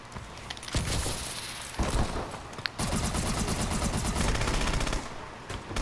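A heavy-recoil gun fires in Call of Duty in long rapid bursts of loud, rattling automatic shots, broken by short pauses, with no talk over it.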